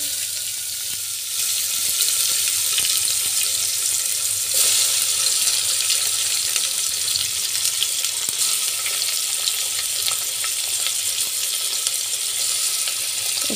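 Tomato pieces fry in hot oil with mustard seeds and two or three dried red chillies for a Telugu pepper rasam, giving a steady, bright, hissing sizzle that swells slightly after the first moments and holds evenly, with no talking.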